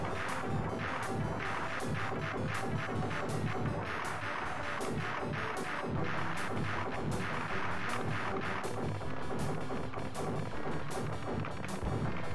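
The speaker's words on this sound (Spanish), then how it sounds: "No me tires tantos tiros." Rapid gunfire and explosive crashes from the 1994 Russian DOS vehicle shooter Highway Hunter, a dense, continuous barrage of repeated shots over driving game noise and music, loud throughout with no talking.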